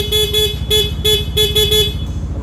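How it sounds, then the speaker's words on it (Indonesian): Dual-tone aftermarket horn on a 2022 Yamaha NMAX scooter blares in loud, close bursts, about seven short honks in quick uneven succession over a low idling motor. "Lalu ada klakson dual tone."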